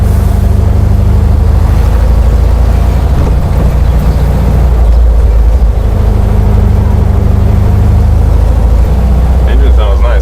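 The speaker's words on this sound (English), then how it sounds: "Engine sounds nice." Volkswagen Beetle Volksrod cruising the main strip in Wynwood, its engine a loud, steady low drone with road rumble throughout, and faint voices under it.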